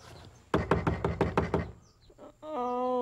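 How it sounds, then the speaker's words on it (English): Someone raps on a wooden house door, a rapid series of about seven loud, close knocks followed by a couple of softer taps, then a steady harmonic tone rises at the end. "I had to knock twice."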